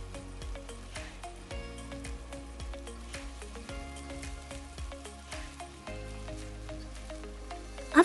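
Beef frying in a pan with garlic, ginger, seasoning cubes and salt, a steady quiet sizzle with crackling pops scattered throughout, no talk over it.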